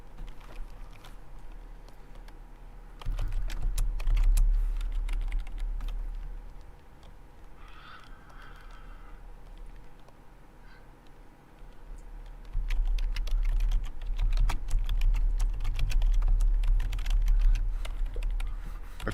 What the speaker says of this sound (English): No, that's Troy typing